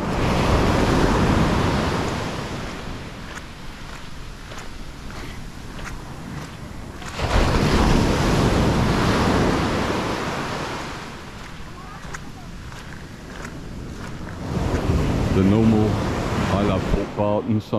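Sea waves wash ashore at Port Barton, Palawan, a continuous rushing surf roar that swells and recedes in broad surges, with wind buffeting the microphone and faint footsteps now and then.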